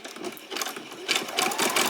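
Sewing machine stitching the seam of a basic dress: a fast, steady mechanical whirr at close range that speeds up and grows louder partway through, with no talking.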